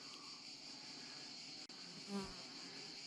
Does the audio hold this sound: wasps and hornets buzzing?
yes